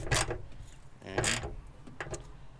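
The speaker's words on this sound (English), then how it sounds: "you just tighten your bolts back." Bolts tightened by hand on an LED ditch light bracket of a 2nd-gen Toyota Tacoma, giving a few short mechanical ratcheting bursts with pauses between, near and moderately loud, with no talk.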